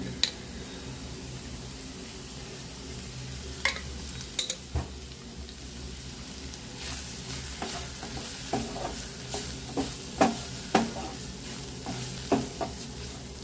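Cauliflower poriyal frying in oil in a pan, with a steady sizzle and spoon stirring that scrapes and clinks now and then, growing busier toward the end, with no talk.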